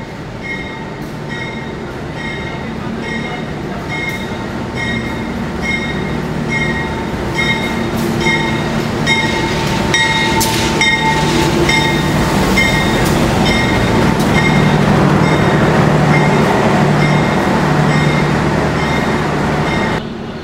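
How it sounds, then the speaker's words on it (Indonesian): A Pandalungan passenger train hauled by a CC203 locomotive pulls into platform track 6 at a station, a loud steady rumble of rolling cars with sustained high ringing squeal tones throughout and no talking. "Ini dia Pandalungan masuk jalur 6, teman-teman."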